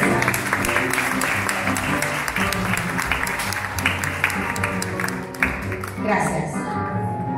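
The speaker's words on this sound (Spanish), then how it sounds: "Denle un aplauso a la princesa." Applause for a princess at a church celebration at Sagrado Corazón de Jesús in Loma Larga, a steady crowd clapping close by that runs throughout with a PA voice and music mixed in.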